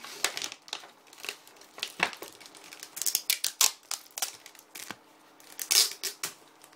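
Pokémon card booster packs are torn open, giving irregular close crinkling and ripping of foil wrappers with sharp crackly bursts and short pauses, no talk.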